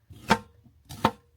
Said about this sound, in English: So I'm going ahead and cutting this up so that it's ready for the scrambled egg dish.